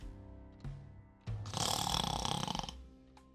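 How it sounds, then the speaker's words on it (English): Loud snoring sound effect from a visual novel game: a couple of short snorts, then one long rasping drawn-out snore, heard alone with nothing else over it. "Randall's snoring was just too loud"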